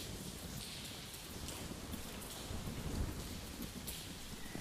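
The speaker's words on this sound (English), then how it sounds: "It sounds like it's still raining." Steady heavy rain with low rumbling thunder in the survival game Nightingale, a dense continuous downpour with deep rolling swells throughout and no talk.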